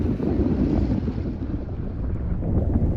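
Strong 40 mph wind rushes over the bay in New Jersey, a loud, continuous roaring buffet across the microphone with wave wash mixed underneath.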